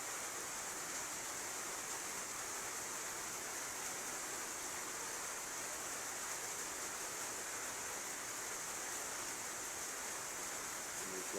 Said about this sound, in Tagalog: Ang lakas tumutulo sa tubig at saka sa suka.